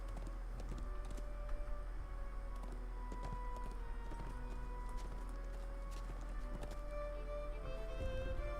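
Horse hooves clip-clop in a fantasy video game, a quick steady run of hoofbeats heard faintly beneath ambient game music and tones.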